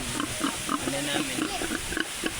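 Pigs on a family farm, a sow with her nursing piglets, grunt and oink in short repeated bursts close by, while someone talks over them.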